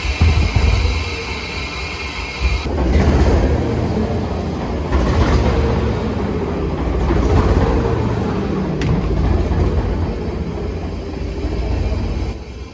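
The 1920 Belgian-built steam locomotive Lady Lisa runs on the Lavender Line with a loud, steady mechanical rumble heard from the cab, broad low roar and faint rhythmic clatter continuing throughout without speech.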